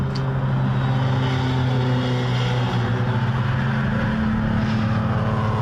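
A Ford Escort WRC race car at Brands Hatch drones with a steady, loud engine note that holds close and constant throughout, its pitch shifting slightly as it runs.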